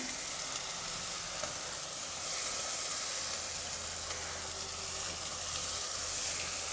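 Ginger garlic paste with mint sizzling in hot oil in a pan for prawn gravy, a steady continuous frying hiss with faint stirring, close and even throughout.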